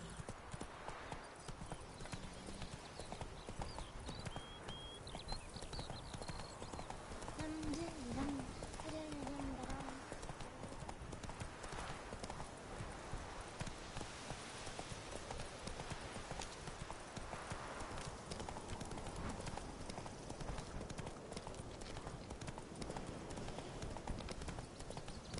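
Hooves clip-clop steadily as the horse Roach gallops in the video game The Witcher 3, a continuous rhythmic beat with game ambience and a brief whinny-like tone.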